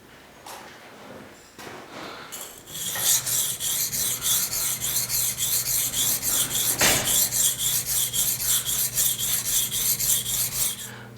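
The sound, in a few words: knife blade sharpened on a 10,000 grit stone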